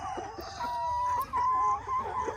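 Free-range chickens on a farm cluck and murmur steadily at a moderate distance, with layered overlapping calls over a faint outdoor background.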